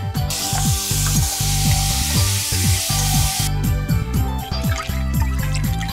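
Hot oil sizzles loudly and continuously as spices hit the pan, tempering a dal tadka, with rhythmic music playing underneath.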